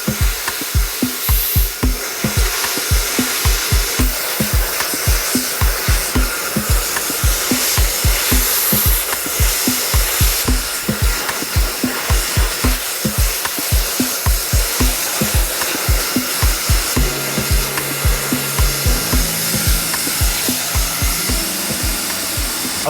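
A hair dryer blows steadily on a dark French lace hair system, its airflow pulsing in a fast regular flutter as it is moved, loud and close, with no talking.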